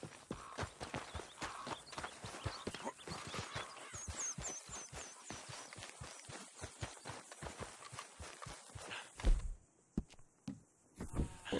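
Horse hooves clip-clop steadily in the video game Red Dead Redemption 2, a quick regular rhythm of hoof strikes near and fairly loud for most of the stretch, then a few heavier thuds and quieter gaps at the end.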